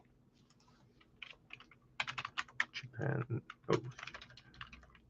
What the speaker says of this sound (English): I'm typing Japan Racing Association.